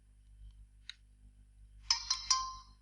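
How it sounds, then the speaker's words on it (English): A mobile phone gives a short alert: three quick, bright chime notes in rapid succession after a single soft tick, over a faint low hum. "That was my phone, ignore that."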